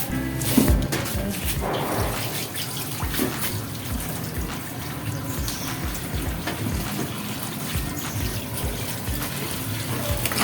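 Running water splashes steadily as papaya is rinsed under a tap, a continuous close gush with faint handling knocks and no talk.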